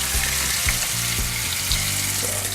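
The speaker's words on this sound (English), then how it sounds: "they're just frying up here" Steady sizzling and crackling of food frying in a hot pan, close and continuous, with no voices.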